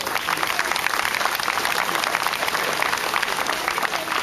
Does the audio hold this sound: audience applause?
yes